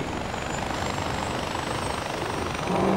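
Steady helicopter rotor drone from Far Cry 4 gameplay, a continuous close whir throughout that swells slightly louder at the end.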